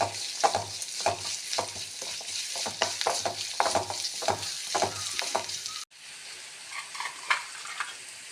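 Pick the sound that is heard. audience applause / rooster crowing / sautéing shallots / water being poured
sautéing shallots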